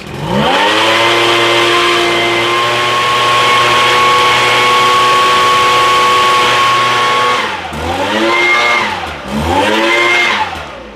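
An Echo leaf blower, started after five or six years of storage, runs as a loud, steady two-stroke drone, then revs down and back up twice near the end with sweeping pitch dips.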